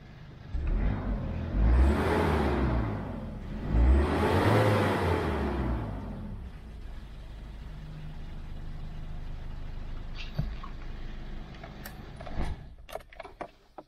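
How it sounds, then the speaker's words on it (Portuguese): A 2001 Tracker engine, newly freed of its misfire, revs up in two strong swells, then settles into a steady, even idle close by, with a few light mechanical clicks near the end. "Ela parou de falhar, tá, pessoal? Deixando a marcha lenta um pouquinho."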